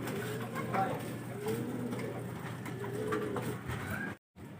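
Racing pigeons coo softly in a loft, with faint low calls scattered over a steady background hum, and a person talking nearby.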